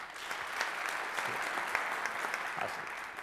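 An audience at a fintech conference keynote claps together in a steady, moderately distant wash of many hands, fairly quiet and continuous for a few seconds, without speech on top.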